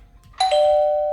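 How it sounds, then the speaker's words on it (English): A doorbell rings once indoors, a sharp two-tone electronic chime that starts abruptly and rings on clearly, loud against a quiet background. "Wait, was that the doorbell?"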